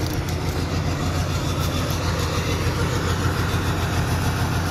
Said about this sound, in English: Like, you can hear just how quiet the exhaust is.